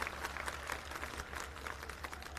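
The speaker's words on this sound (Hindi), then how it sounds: "एक बार जोरदार तालियां बजा दो अपने किसान भाइयों के लिए।" A crowd claps at an outdoor political rally held by the AAP in Kashipur, Uttarakhand. The applause is faint and distant, a soft, even patter lasting a couple of seconds.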